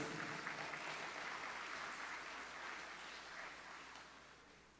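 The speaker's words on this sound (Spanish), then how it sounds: "Lo recibimos con aplausos y estamos atentos a su ponencia." Audience applause welcoming a speaker to a lecture on synodality and democracy at a Sacred Hearts school event, a sustained dense clapping wash that fades slightly toward the end, with no talking.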